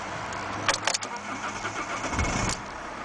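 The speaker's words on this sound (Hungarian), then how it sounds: "Csak megnézzük is, hogy indul az autó." A Fiat Bravo 1.9 Multijet diesel car engine cranks and fires, recorded close by. Its starter whirs briefly before the engine catches and settles into a steady, loud running drone for the rest of the short stretch.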